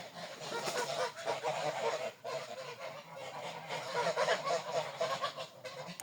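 A small flock of Large Grey geese honk repeatedly and close by, loud overlapping nasal calls with brief pauses between bursts, with no talking.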